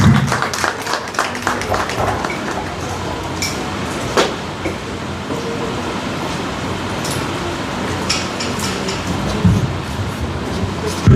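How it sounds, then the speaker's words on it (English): An audience at a women's community gathering applauds, with scattered, uneven clapping and crowd noise that carries on at moderate loudness, with a few sharper claps standing out. "Please give him a round of applause."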